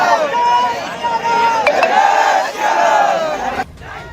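A large crowd on a street in Khargone shouts protest slogans together, a loud, continuous roar of massed voices with rising and falling chants.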